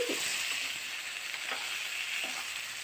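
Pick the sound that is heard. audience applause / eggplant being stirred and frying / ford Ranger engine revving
eggplant being stirred and frying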